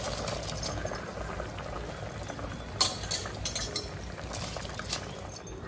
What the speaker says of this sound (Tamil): இப்போ அரிசி சேர்த்துக்கலாம்.